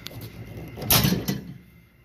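A short, quiet sliding clunk of a microwave door opening nearby, with faint room noise around it.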